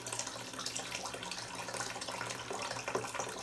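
A red balloon-themed bath bomb fizzes in bath water, giving a continuous soft hiss and bubbling. It stays steady and fairly quiet for a few seconds, with no talking over it.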